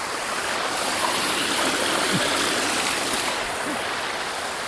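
Daranak Falls in Tanay, Rizal, sends water rushing down into a stream, giving a steady, broad roar that fills the whole stretch with no pauses.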